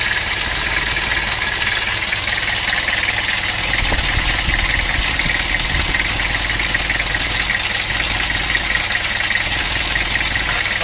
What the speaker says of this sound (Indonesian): Jadi kita panasi dulu nih mesinnya.